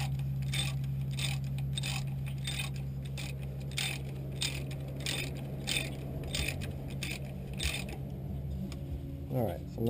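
A ratchet wrench clicks in a steady rhythmic series of strokes while bolts are tightened during an alternator replacement on a 1999 Nissan Altima, close up over a low hum, ending with a brief scrape.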